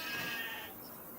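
Sheep in the Farming Simulator 25 video game bleat in a single short call from the sheep shed, close and fairly loud, with no talk over it.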